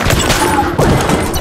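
Gunfire from a gun in the video game Enter the Gungeon, loud rapid bursts of shots layered over busy game noise with thumping impacts.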